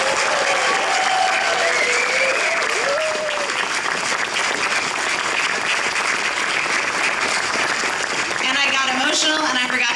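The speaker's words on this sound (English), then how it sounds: "So I would really like a big round of applause for all of those folks" Sustained audience applause fills a groundbreaking event at the Pittsburgh Glass Center, loud and steady throughout, with voices and cheering mixed in.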